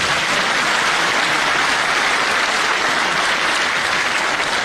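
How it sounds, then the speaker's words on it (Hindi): Loud, sustained applause from a large seated audience at a university convocation ceremony, dense continuous clapping filling the whole stretch without a pause. "अब ताली बजाओ जोरदार आएंगे।"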